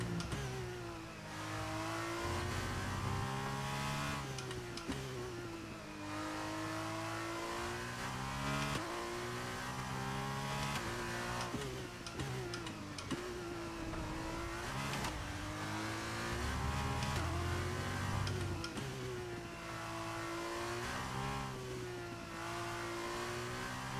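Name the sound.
Formula 2 race car driving in F1 23 video game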